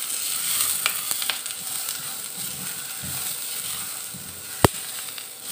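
Ingredients fry in ghee in a home kitchen pan, giving a steady close sizzle with occasional sharp ticks and pops, without any talking.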